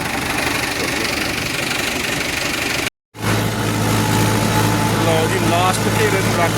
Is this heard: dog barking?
no